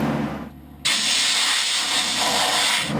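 A loud, steady rush of compressed air hisses through household ducting during duct cleaning, stopping briefly before surging back and holding strong, close by.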